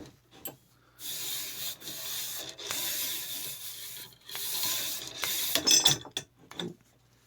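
A .30 caliber bore brush scrubs back and forth inside an M1917 rifle barrel, producing repeated rasping strokes of a few seconds each, separated by short pauses, close and moderately loud.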